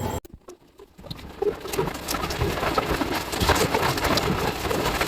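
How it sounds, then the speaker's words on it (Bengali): Heavy rain falls outside, starting after a quiet second of sparse taps and then settling into a dense, steady patter of drops on surfaces, moderately loud and continuous, with no talk. "বাইরে তো প্রচন্ড বৃষ্টি হচ্ছে"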